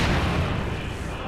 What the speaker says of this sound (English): And he has his own little mortar half-track.